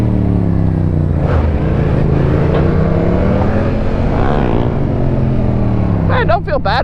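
A 2022 Yamaha R7 sport bike engine drones and shifts pitch while being ridden, a steady loud rumble with rising and falling tones, wind noise and a voice heard over it near the end.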